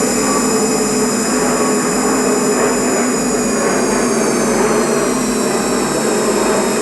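An airliner takes off at London Luton Airport in the RFS flight simulator, its jet engines a loud, continuous roar that holds steady throughout.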